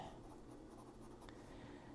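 Quiet, soft scratching of a C.H. Hanson carpentry pencil moving across steno tablet paper in short strokes, close and faint, with no talking.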